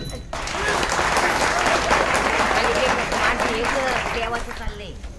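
Men in a kirtan audience break into loud, sustained group clapping that lasts several seconds, with steady rapid hand claps and a light crowd murmur blending underneath.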